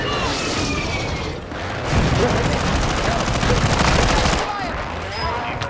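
Airstrike in Call of Duty: Warzone 2.0: a dense barrage of rapid gunfire and bomb blasts roars loudly for several seconds, swelling in the middle before easing, with voices briefly heard over the din.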